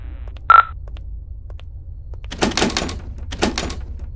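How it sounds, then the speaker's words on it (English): Front door of an old asylum building, a sticky door, opened: a short sharp click or thunk, then a few faint knocks, followed by louder scraping and rattling bursts as the door is pushed open nearby. "Nice, the door was unlocked. It can get a little sticky sometimes."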